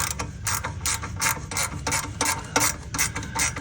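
Rapid ratcheting clicks from a hand wrench tightening the V-band clamp on a GR Corolla downpipe, in steady bursts of close, crisp metallic ticks with no talking.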